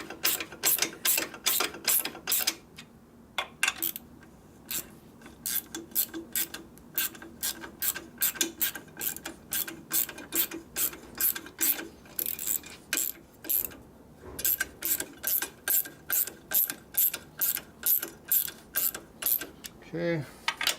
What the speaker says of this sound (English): You want to get all these bolts started first